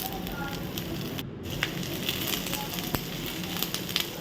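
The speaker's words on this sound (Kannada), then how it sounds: "ಅದರ ನಂತರ ನಾನು ಕ್ಯಾಪ್ಸಿಕಮ್ ಮತ್ತು ಈರುಳ್ಳಿ ತಗೊಂಡಿದ್ದೇನೆ, ಅದನ್ನು ಕೂಡ ಇಲ್ಲಿ ನಾನು ಫ್ರೈ ಮಾಡ್ತೇನೆ." Capsicum and onion fry in a pan as they are cooked for chicken chilli, giving a steady, dense sizzle and crackle with a few sharper pops and no talking.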